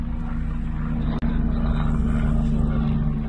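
A loud, steady droning roar of a helicopter flying overhead a fishery in Essex, continuous and close, with a deep humming engine tone throughout.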